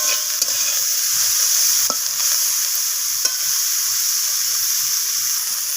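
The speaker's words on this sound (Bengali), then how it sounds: "একটু নাড়াচাড়া করে ভাজা করে নিচ্ছি।" Eggplant and spring onion stir-fried with salt hiss in a loud, continuous sizzle, with a few sharp scrapes of a spatula against the pan.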